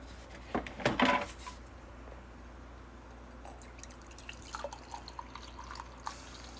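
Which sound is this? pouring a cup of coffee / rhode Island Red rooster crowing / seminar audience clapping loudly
pouring a cup of coffee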